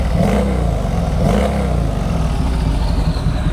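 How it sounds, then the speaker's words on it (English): A turbocharged drag Harley with a big-bore kit, stock throttle body and stock heads runs loud and close, a dense throbbing engine roar with a thin turbo whistle riding in the exhaust. "You just hear that like turbo whistle in the exhaust."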